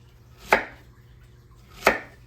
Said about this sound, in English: I want to cut mine in the bias, maybe a half-inch thick or so.